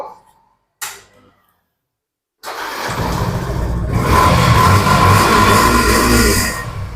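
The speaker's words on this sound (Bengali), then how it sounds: "এক দুটো গাড়ি একটু আওয়াজ শুনিয়ে দেখাও" A used motorcycle at a bike showroom starts after a couple of brief clicks and a short silence, then idles loudly and revs up nearby, holding a rough, steady roar to the end.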